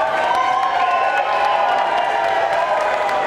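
Wrestling fans roar and cheer at a women's match, a loud, continuous wall of crowd noise with shouts and whoops rising through it for a few seconds.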